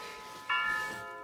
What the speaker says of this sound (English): I'm gonna make a 1 hour video of it chiming every quarter.